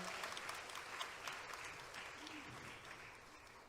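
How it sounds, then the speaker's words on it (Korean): Audience applause for a professor's musical performance at a church celebration service, steady fairly faint clapping lasting a few seconds. "정말 감동적인 연주해 주신 우리 조홍택 교수님께 다시 한번 감사의 박수"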